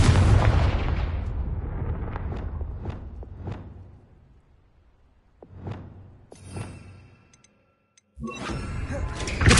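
Fire spell explosions blast off one after another in Hogwarts Legacy, a string of sharp booming bursts with whooshing tails, a quiet gap, then a final loud eruption.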